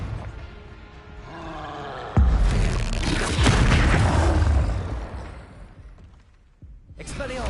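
A Confringo blasting spell in Hogwarts Legacy erupts in a loud, deep boom with a rumbling roar that trails off over several seconds, followed by another sharp burst at the end.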